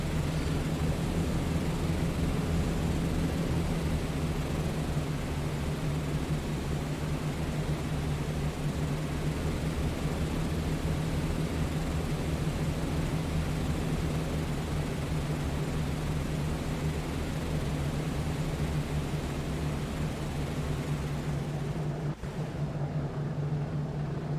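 A B-17 bomber comes in to land in the B-17 Mighty Eighth game, its piston engines giving a loud, steady droning hum that holds evenly and then cuts off abruptly near the end.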